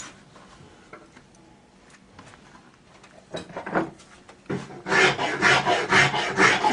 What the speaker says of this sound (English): I use the fingernail file to sand it with.